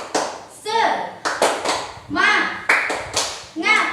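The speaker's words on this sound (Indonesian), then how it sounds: "Ibu ingin mengajak kamu mengingat kembali tepuk semangat" Third-grade pupils in an Indonesian classroom perform a clapping chant, with rhythmic bursts of hand claps interleaved with children's voices chanting together, close and lively.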